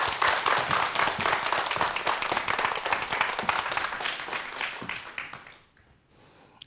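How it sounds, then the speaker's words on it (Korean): A lecture audience gives warm, dense applause to welcome a rocket-science speaker, steady clapping for about five seconds that thins and fades out into near silence. "큰 박수로 강연자 모셔볼게요."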